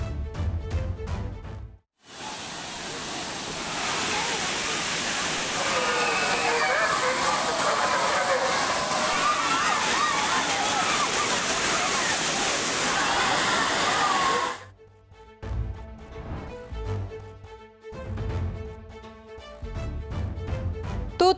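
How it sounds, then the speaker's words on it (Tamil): Thirparappu waterfall in Kanyakumari pours with tourists bathing beneath it, a loud, dense rushing roar lasting about twelve seconds before cutting abruptly to quieter, busier sounds. "குடும்பத்துடன் அருவியில் குளித்து உற்சாகம் அடைந்தனர்"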